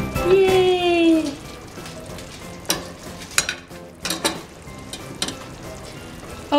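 Sauce with basil simmering and sizzling in a pan while being stirred, a soft crackle under a few clinks and scrapes, close up, with a short voice sound near the start.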